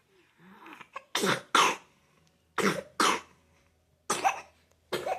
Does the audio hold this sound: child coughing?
yes